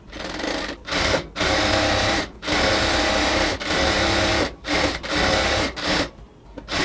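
A sewing machine stitches the leg of an elegant ladies' pant, running in steady bursts of dense mechanical whirring broken by several short pauses, close and loud with no talking.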